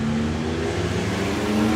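A V8-engined car idles and burbles steadily in the pits at a nostalgia drag racing event, a continuous low rumble up close with no talk over it.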